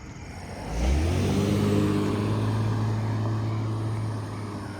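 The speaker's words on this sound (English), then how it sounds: "Another car?" A car passes on a quiet night street among calling insects, its engine rumble swelling quickly and then fading slowly into a long steady hum before dropping off.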